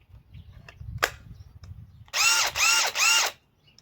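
A hammer drill running on a battery adapter fires in three quick, loud bursts of whirring motor, each lasting about a quarter second. Before them come a few scattered handling clicks and knocks.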